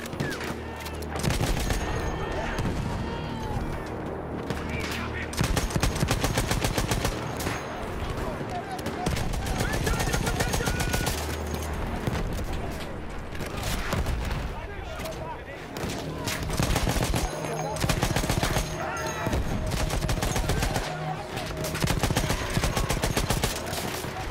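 Dense, continuous bursts of rapid video game gunfire, loud and sustained in the foreground, with a player talking over the shooting.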